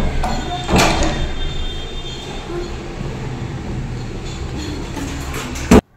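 A metro train rumbles steadily in the background with brief clunks and a sliding-door thud, ending in a sharp loud knock.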